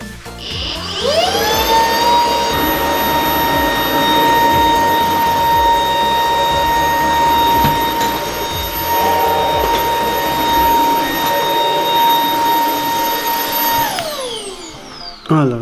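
A Dyson or Shark vacuum cleaner runs on smooth tiled flooring, its motor spinning up to a loud, steady high whine with a rushing airflow that holds for most of the stretch before winding down at the end.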